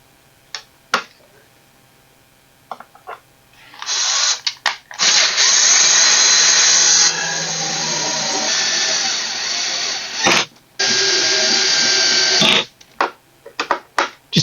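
Power drill boring holes to mount a fan, starting with a few short taps and clicks, then loud sustained whirring runs with brief pauses between them, close to the listener.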